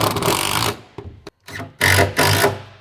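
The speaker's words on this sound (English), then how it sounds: "I'm going to screw it into the wood floor" A power driver sinking a screw through an angle bracket into a wood floor in a tool trailer build-out, several short loud whirring bursts separated by brief pauses, close by, with no talking.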